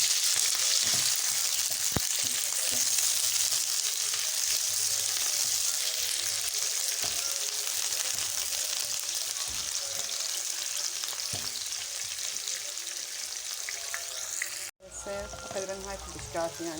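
Two spoonfuls of oil sizzle and fry steadily in a pan, a close, constant hiss with a few light clicks and knocks and some talking, briefly cutting out near the end.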